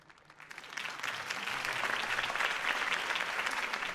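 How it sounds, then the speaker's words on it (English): Crowd applause at a political campaign speech in the Batman Telltale video game swells from a light patter into a steady, dense roar of clapping that carries on to the end. "could have heard that applause"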